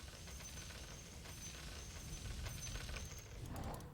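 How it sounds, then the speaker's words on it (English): Continuous dense crackle of video game explosions and gunfire rumbling steadily for the whole stretch, a thick low roar with sharp bursts layered on top, loud and unbroken. "Man, those explosions are annoying."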